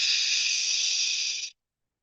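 A person exhales forcefully through the mouth to imitate a pressure cooker whistle, producing a steady, breathy hiss that holds evenly for about a second and a half and then cuts off abruptly.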